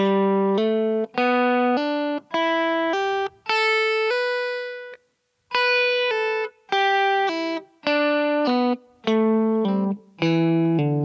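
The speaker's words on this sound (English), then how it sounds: "Now let's look at hammer-ons and pull-offs." Distorted electric guitar plays a steady run of quick, legato notes in short phrases, each note flowing into the next with little picking attack.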